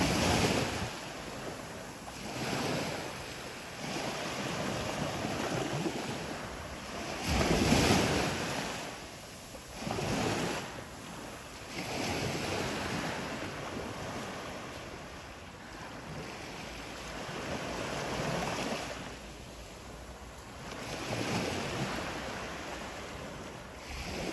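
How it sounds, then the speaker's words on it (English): Ocean surf rolls onto the sand at Juno Beach, with waves swelling and breaking in slow surges every few seconds under steady wind buffeting the microphone, and no voices. "I'm going to mosey on down the beach and be quiet and let you have some beach time"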